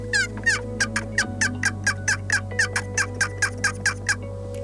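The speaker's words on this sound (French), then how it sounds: "Un cri d'excitation, qui est un cri que la femelle fait lorsqu'elle voit le mâle" A wild turkey hen gives an excited call, a fast run of sharp clucking yelps repeated in an even rhythm about three times a second, close and clear over a steady low hum.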